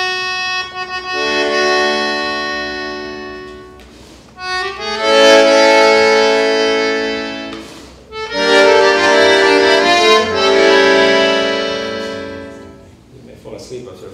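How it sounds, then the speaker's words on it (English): An older-style tango recording plays sustained, swelling melodic phrases with smooth rises and fades between sections and no sharp rhythmic punches, fairly loud and without talking over it. "people are bored with tangos that sound like this."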